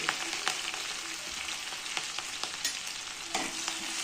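Steady crackling sizzle of green chilies and garlic frying in hot oil, with occasional scraping stirs, close and continuous throughout.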